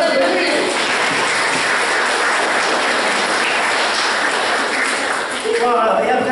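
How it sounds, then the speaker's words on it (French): A crowd at the 2024 Saint Guénaël pardon applauds the women who baked the cakes, with dense, steady clapping that stays loud and continuous throughout, a murmur of voices beneath it. "On peut aussi les applaudir."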